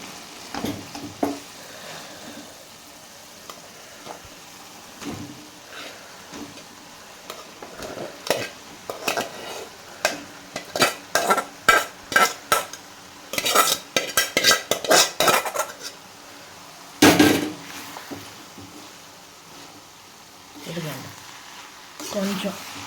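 Precooked rice is stirred into a pot of cooked cluster beans for a biryani, with repeated scraping and clattering spoon strokes against the metal in uneven bursts and a faint sizzle beneath.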